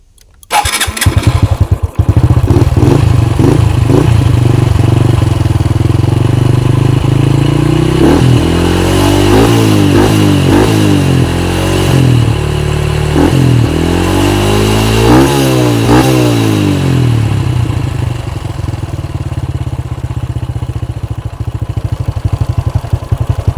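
A motorcycle engine starts and idles loudly close by, then revs up and down in several throttle blips while the throttle is being tuned to stop it stalling, settling back to a steady idle, with no voices.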